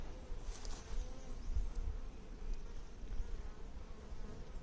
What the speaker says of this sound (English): But the bees seem to have taken to this.